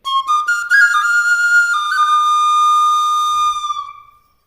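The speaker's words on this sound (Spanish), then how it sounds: "otra que me gusta mucho es esta flauta, la Tezcatlipoca." A Tezcatlipoca flute of the Mexica people from Mexico gives a loud, sustained whistling tone with a few short stepped notes at the start, then a long steady pitch that fades out at the end.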